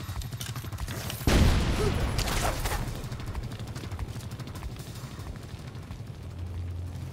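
A sudden loud blast bursts out in a Tom Clancy's The Division 2 game scene, followed by a long rumbling decay that fades under continuing low game noise.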